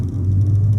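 A VW Mk2 Golf GTI engine under acceleration, heard as a loud, steady low rumble from inside the car with no voices over it.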